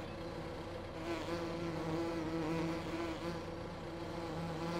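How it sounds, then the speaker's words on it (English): Bees from a row of mailbox-like beehives buzz in Farming Simulator 2015, a steady insect drone that holds throughout over a low engine-like hum. "And the bees are out."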